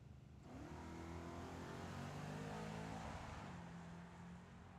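A Chevy Camaro makes a drag racing run at Tucson Dragway, its engine roaring up through the revs in a sustained, loud acceleration heard from trackside, fading slightly at the end.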